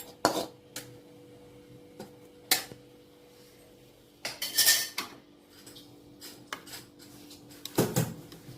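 Egg gravy being moved into another pot, with scattered metallic clinks and scrapes of a spoon against cookware, several sharp knocks spaced irregularly, close and fairly quiet between them.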